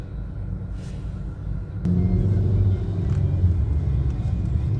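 Cars pass along a road in Dubai, a steady low traffic rumble that swells and stays louder partway through, with no talking.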